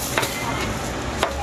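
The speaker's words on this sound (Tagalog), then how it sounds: "Yung hihiwain ko lang guys ito kasi medyo malalaki yung kalabasa" A kitchen knife chops pieces of kalabasa squash for pakbet on a board, three or four sharp separate thuds spaced unevenly over a steady hiss.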